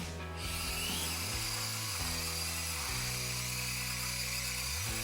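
Axial SCX24 RC crawler with its stock motor climbing a 50-degree incline, a steady loud electric motor whine with shifting pitch as it strains upward, continuous and close with no talk.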